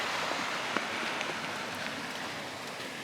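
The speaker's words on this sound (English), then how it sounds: "Well, we're getting rained on" Rain falls steadily on a backpacking trail in the Uintas mountains, a soft, even patter with occasional nearby drops ticking against surfaces, continuous and moderately quiet.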